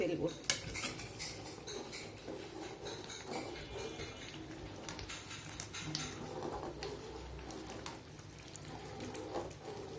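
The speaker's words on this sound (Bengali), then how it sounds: "খুব ভালো করে নাড়ছি যাতে খুব আঠালু হয়ে যায়" Metal utensil scraping and clanking against a pot while vegetable khichuri is stirred thick and sticky, steady close-up clatter with occasional sharper knocks throughout, no talking.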